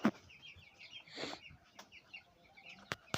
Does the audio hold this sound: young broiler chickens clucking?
yes